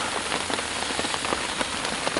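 Heavy rain drums steadily on a surface outside, a dense continuous patter with individual drops ticking through it, fairly loud and without pauses.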